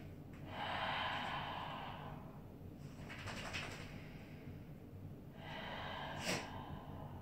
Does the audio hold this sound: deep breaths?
yes